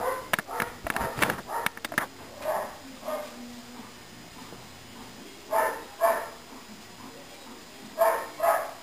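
A dog gives a few short barks and yips indoors, spaced out between quiet stretches, while a person talks to it in a soft, affectionate voice.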